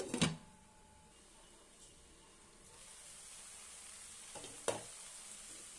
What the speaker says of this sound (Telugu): ఇవన్నీ కూడా వేయించుకుందాం